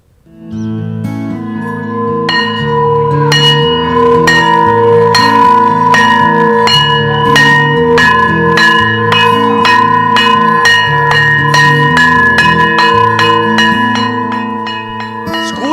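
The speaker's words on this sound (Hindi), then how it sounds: "घंटी करीब 9 महीने बाद फिर सुनाई देने लगी है" A school bell rings loudly and continuously for several seconds, rapid metallic strikes layering into a dense, sustained clang that rings on without pause.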